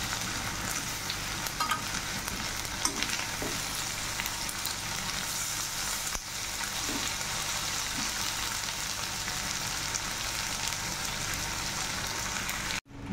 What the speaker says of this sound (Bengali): শুটকিগুলো ভাজা হয়ে গেছে, এখন নামিয়ে নিই।